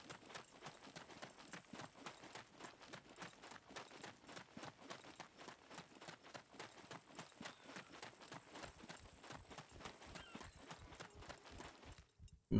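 Donkey hooves in the video game SCUM clip-clop in a steady, rapid rhythm throughout, fairly faint and close, stopping abruptly near the end.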